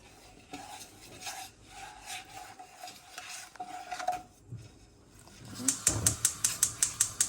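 Milk being stirred into a sugar and cocoa mixture in a pot, a soft swishing stir followed by a quick run of light rhythmic spoon clinks against the pan, close and fairly quiet.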